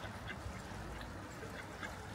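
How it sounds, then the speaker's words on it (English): Ducks quack faintly and intermittently against a steady outdoor background, a few soft distant calls with no talking. "There you go, I promised you some ducks. Mr. and Mrs. Duck there."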